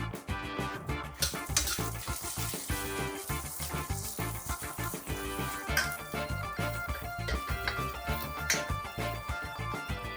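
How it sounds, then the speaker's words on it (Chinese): Dry spicy chicken with scallion pieces is stir-fried in a wok: a spatula scrapes and clatters against the metal in a busy, uneven rhythm over a constant background sizzle, close up with no talking. "翻炒2下，"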